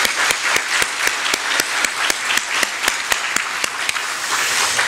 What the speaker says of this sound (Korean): 자, 박수 한번 치겠습니다